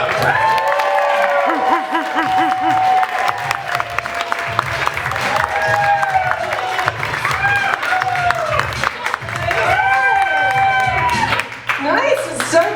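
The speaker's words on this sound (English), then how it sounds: "please welcome the very funny Julian Baer. Clap it up." Comedy club audience clapping and cheering for a comic taking the stage, dense applause with whoops and shouts running throughout before easing near the end.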